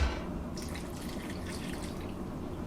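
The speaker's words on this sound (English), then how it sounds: "I'm going to add a little water." Water poured into a pot of Afang soup, a steady soft trickling splash running throughout at moderate level with no talk.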